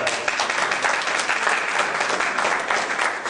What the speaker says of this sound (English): If you believe that, give God a hand clap.